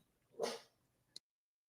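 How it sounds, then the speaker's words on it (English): Dog barking, a single short yelp or bark of moderate loudness followed by a brief sharp click, then silence. "Hear those dogs?"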